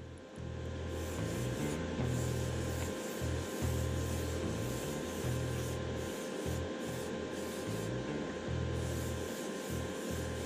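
Clear coat sprayed from a spray can or airbrush onto a Revell 2006 Shelby Mustang GT-H model car body, a continuous close hissing spray lasting the whole stretch with slight pulsing and no talk.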